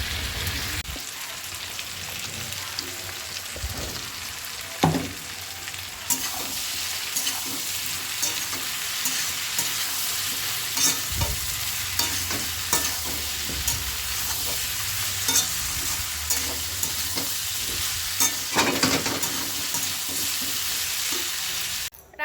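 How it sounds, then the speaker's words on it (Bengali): Shrimp and fig curry sautés in a pan with a continuous loud sizzle and frequent spatula scrapes and clatters against the pan, heard close by for about twenty seconds with no one speaking. "এটা ভালো করে কষাবো খুব টেস্টি হবে চিংড়ি মাছ দিয়ে ডুমুর"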